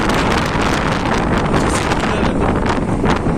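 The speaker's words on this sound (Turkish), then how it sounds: "Çok fena rüzgar var ey." Strong wind roars steadily against the microphone by a chicken coop, a loud continuous buffeting rush with no voices.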